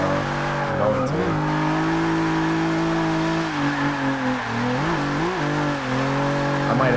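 A Nissan 350Z engine revs continuously while driving, its harmonic drone holding steady and then rising and dipping through several throttle blips and shifts, loud and close throughout, with no talk.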